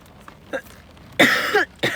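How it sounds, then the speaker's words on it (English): A single sharp, harsh cough bursts out close by, preceded by a few soft throat sounds and followed by a brief further rasp. "Every time I cough, he gets I scared."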